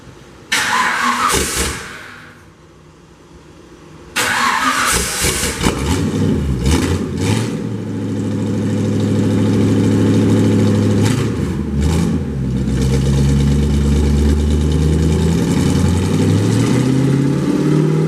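A 1931 Ford Model A sedan engine cranks over briefly, pauses, then fires and settles into a steady, loud, rumbling idle with some revving, close by and with no talk over it.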